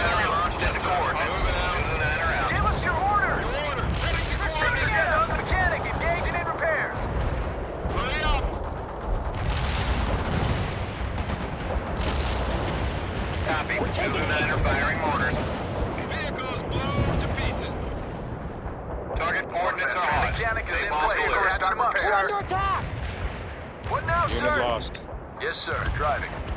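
Artillery barrage and heavy gunfire from the World in Conflict game roar continuously and loudly, dense booms and crackling bursts layered throughout, with radio-style voices talking over the battle.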